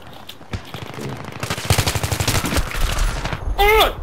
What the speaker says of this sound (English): Got my favorite pistol out.